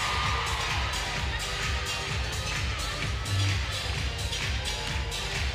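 A crowd at a college gymnastics floor meet between Arkansas and Auburn cheers and whoops loudly and without a break, with high shouts rising out of the steady roar.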